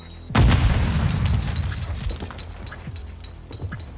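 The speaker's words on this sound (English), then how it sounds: "Gonna toss out a nade." A grenade in Call of Duty: Modern Warfare II explodes in one loud, close boom, then a long rumbling decay with scattered debris clatter trailing off.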